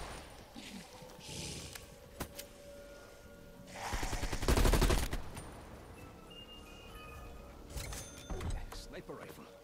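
Machine gun fire in Call of Duty: Black Ops Cold War Zombies mode, round 19, with scattered shots building into a loud, dense burst midway and lighter bursts near the end over game noise.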